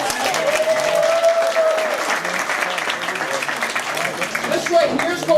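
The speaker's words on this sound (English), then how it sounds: "Give her a round of applause, guys." Audience clapping for a performer at an alligator farm show in the Florida Everglades, a lively outdoor round of applause with a few cheers, while a voice speaks over it.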